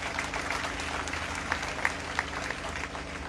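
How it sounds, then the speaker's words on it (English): Audience applauding for teachers during a presidential keynote address, steady sustained clapping from a large crowd with a few louder individual claps standing out. "When I clap for the teacher there."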